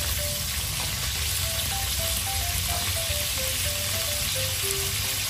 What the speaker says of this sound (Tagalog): babaliktad na natin ang chicken liver para yung kabilang side naman yung maluto